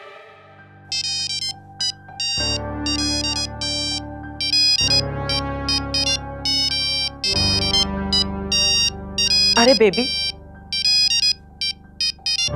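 A repeating electronic phone ringtone sounds for an incoming call, a bright melodic pattern of beeps cycling steadily over a low tonal backing, loud and close, with one brief voice speaking over it.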